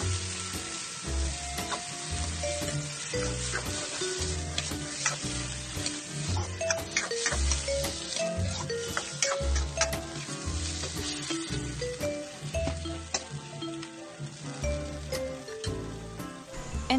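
Chicken pieces frying in a pan for adobo, a loud, dense, steady sizzle and crackle that continues without pause, close up with no voices.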